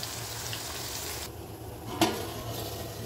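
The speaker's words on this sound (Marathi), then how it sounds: "कलेजी पेटा टाकलेला आहे, आता पूर्ण तेलात परतवून घेते" Liver and offal, kaleji peta, sauté in oil in a pan with a continuous close sizzle and one sharp clink of a spoon against the pan partway through.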